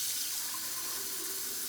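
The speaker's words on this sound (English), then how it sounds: "Fill your glass cylinder with 3/4 full of water" Tap water pours steadily into a glass cylinder, a close, continuous hiss-like rush with no breaks and no talking.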